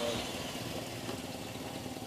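A Toyota Kijang engine idles after starting, a steady low, fairly quiet rumble that holds even for the whole moment with no revving.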